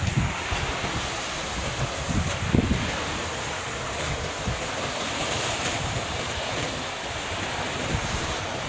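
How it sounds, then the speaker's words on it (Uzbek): Black Sea surf rolls continuously onto the shore, a loud, broad wash of waves mixed with gusting wind buffeting the microphone, with one sharper surge early on. "Mana do'stlar, dengizga yaqinlashib kelmoqdamiz. Ovozini eshitgan bo'lsangiz kerak."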